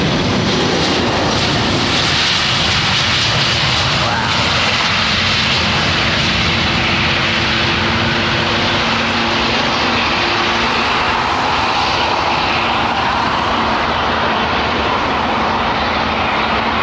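A large airliner with Rolls-Royce engines arrives on runway 27R at London Heathrow, a loud continuous engine roar that holds steady and close throughout.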